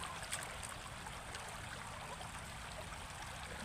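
River water streams steadily along a riverbank, a continuous soft rushing and trickling wash that stays even and fairly faint throughout, with no voices.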